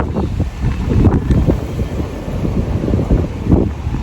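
Steady gusting wind buffets the microphone, a continuous low roar with swells of rumble and no voices.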